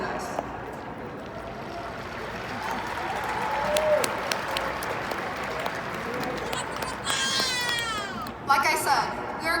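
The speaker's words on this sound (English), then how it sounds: "let's give each other a round of applause" Sustained applause from a crowd at a high school graduation, a dense wash of clapping that holds steady for several seconds, with a few voices and whoops rising near the end.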